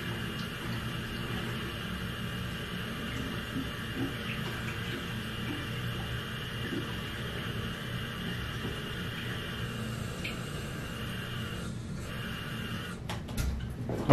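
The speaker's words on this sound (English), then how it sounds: "I just filled it from the sink with tap water" Tap water runs steadily from a kitchen sink into a bucket, a continuous even rush with a brief clatter near the end.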